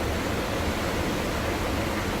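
Rushing water surges during Hurricane Irma near the eye wall, a loud, steady, broadband roar that fills the whole stretch without pause and without voices.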